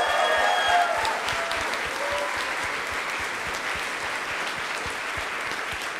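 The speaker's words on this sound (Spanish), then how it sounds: "Así que denle un fuerte aplauso." Steady applause from the audience at a programming contest closing ceremony, broad and even, a little louder at the start, with a faint voice briefly heard early on.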